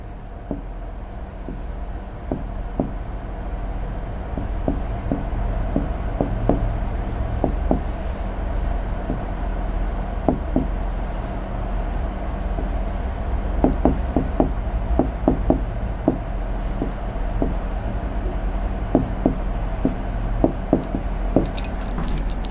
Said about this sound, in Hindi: चलो मैं यहाँ पे लिख देती हूँ